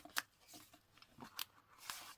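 Scissors trimming paper in a junk journal, giving a few faint, quiet snips and crisp cuts spaced irregularly, heard up close with no talking.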